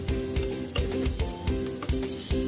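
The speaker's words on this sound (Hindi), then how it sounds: "ये देखिए अदरक लहसुन को थोड़ा सा भून लेंगे" Ginger garlic paste sizzles steadily in hot oil for mutton Kabuli pulao, with a spoon scraping and knocking against the pan in a regular stirring rhythm, close and loud.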